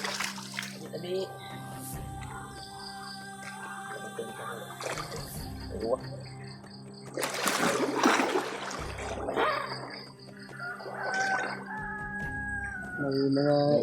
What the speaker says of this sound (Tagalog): May mga yalas na mga manok dito.